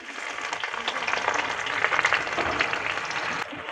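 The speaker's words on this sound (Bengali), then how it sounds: "এখন পেঁয়াজ দিয়ে দেবো কুচিয়ে রাখা পেঁয়াজ দিয়ে দিচ্ছি" Chopped onions hit hot oil tempered with whole cumin seeds and sizzle in a steady, bright crackle that holds close and even throughout, with no voices over it.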